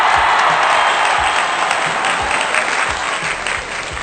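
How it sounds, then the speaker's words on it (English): An audience at a podcast shout-out for a varsity baseball team bursts into loud, dense hand-clapping applause that stays steady and gradually eases off, with no talking over it. "One more hand clap for the Hiram Johnson Varsity baseball team."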